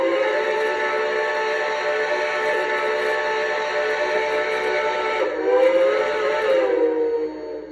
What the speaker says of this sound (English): F3 for another whistle.